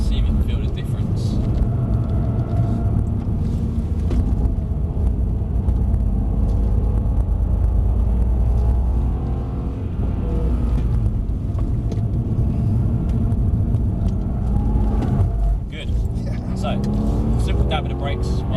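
A Mercedes-Benz C63 S AMG is driven at Mercedes-Benz World, its engine giving a constant deep rumble throughout, with brief surges as it picks up speed, under ongoing talk from inside the car.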